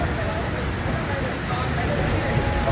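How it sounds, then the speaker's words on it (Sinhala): Heavy rain pours steadily through the whole stretch, a dense, even hiss of drops hitting surfaces close by with no breaks, loud and broadband, with a faint background murmur mixed in. "වැස්ස නම් වැඩි වුණා."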